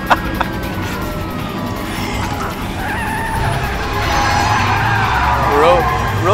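A car driving and skidding in the video game Metal Gear Rising: Revengeance, a loud continuous engine roar with tyre screeches, a siren wailing along and voices talking over it.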